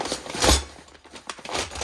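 Paper packaging around a Tekton 19-piece metric combination wrench set with rack being opened by hand, giving a few close, brief crinkling and tearing rustles in short bursts.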